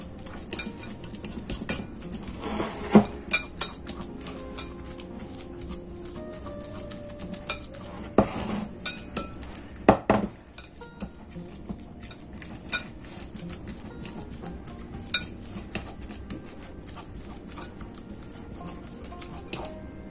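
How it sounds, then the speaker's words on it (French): A fork clinks and scrapes against a bowl while ripe bananas are mashed for flourless oat muffins, a close, irregular run of metallic taps and soft squashing strokes with no talk. "On va écraser nos bananes à l'aide d'une fourchette."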